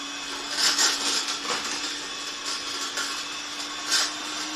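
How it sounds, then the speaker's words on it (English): An electric hand mixer whirs steadily in an oversized bowl while mixing a no-bake treat batter, a continuous close motor hum with beaters scraping and rattling intermittently. "I'm going to actually use an electric mixer."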